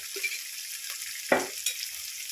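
A quiet, steady sizzle of peanuts, green chillies and onions frying in a pan, broken by a few sharp clinks and scrapes as the food is stirred.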